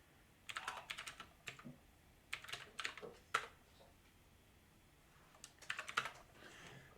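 Bursts of quick keystrokes clatter on a computer keyboard, close and fairly faint, coming in short clusters separated by quiet pauses.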